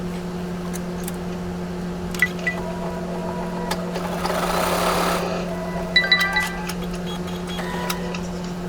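An embroidery sewing machine fitted with a magnetic hoop stitching a pieced fabric project, with a steady mechanical hum, a brief whirring run in the middle and scattered light clicks and taps around it.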